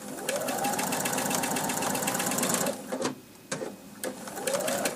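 A sewing machine stitches a Winding Ways quilt block, its needle running in a steady, close mechanical chatter that briefly pauses and then resumes.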